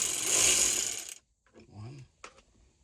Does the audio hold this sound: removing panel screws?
yes